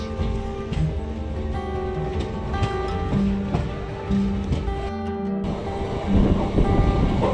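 A train pulls out of a railway station in Rajasthan, heard as a steady, fairly loud rumble with a sustained tonal hum running throughout, rising slightly near the end.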